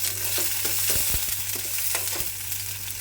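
Onions fry in hot oil with cinnamon, cloves, ginger, garlic and green chillies for a veg kurma in a pressure cooker, sizzling steadily up close while a spoon stirs with scattered scraping clicks.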